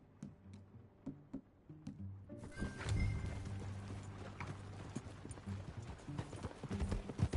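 Horse hooves clip-clop in the video game Red Dead Redemption 2. Sparse, distinct hoof strikes at first swell into a fuller ride with a low rumbling bed and a brief whinny-like tone, the hoofbeats continuing rhythmically and growing louder.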